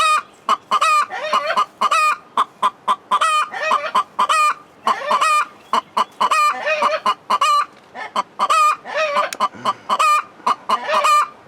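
Hens in a coop, sitting on eggs they are incubating, cluck nearby in repeated bursts of sharp, rhythmic calls that stop and start throughout.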